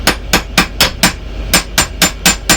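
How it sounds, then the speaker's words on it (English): A hammer gently taps leather into shape for a custom Tricker's shoe in a repair workshop, about ten sharp, evenly spaced blows in quick succession, close and clear with no talking. "we're just going to gently hammer it so that we get a little bit of shape"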